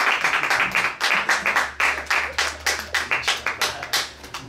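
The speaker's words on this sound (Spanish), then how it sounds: "Pues démosle un aplauso" Audience applause at the end of a talk on conformal invariance in finite grand unified models, a steady run of close, sharp hand claps in an uneven rhythm with a low hum beneath and no voices.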